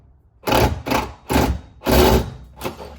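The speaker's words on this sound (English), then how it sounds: "all we have to do is drill that other hole" Power drill boring a hole through a part on a Mazda Miata, five loud bursts of drilling separated by short pauses, close up and with no talking.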